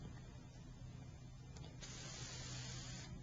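A can of 3M 74 lace-pattern adhesive aerosol sprays in one continuous, steady hiss that brightens partway through, close by and alone with no voices.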